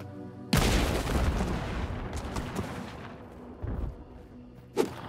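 A red barrel explodes in the video game Hunt: Showdown, a sudden loud boom followed by a long rumbling tail and a smaller sharp crack near the end.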